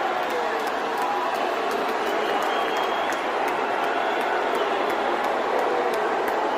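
Large crowd at a comedy show reacting after the richest man in the world is introduced, a steady loud wash of mixed cheering, booing and applause that holds without a break.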